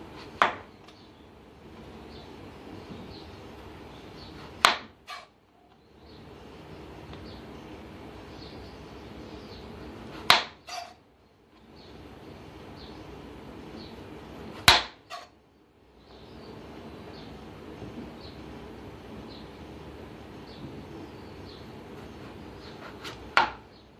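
A knife cuts potatoes into blocks for French fries, with sharp single strikes spaced about five seconds apart and quieter slicing and handling noise between them.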